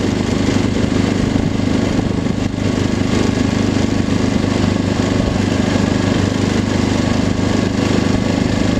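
An ATV engine drones loud and steady while riding, a constant rough, buzzing rumble with no pauses or voices.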